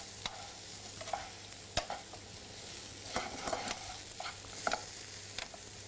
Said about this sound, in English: Add our lentils, in they go. Mix again. Coat the lentils.